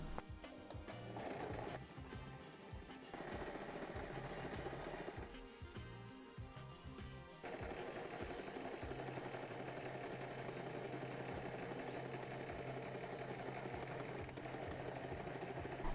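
A domestic sewing machine stitches darts on trousers, running in quick steady bursts with brief pauses, then a long continuous run, close and clear with no talking.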